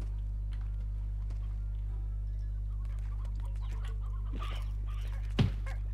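Video game chickens in Slime Rancher, a few soft, scattered clucks over a steady low hum, ending with one sharper sound.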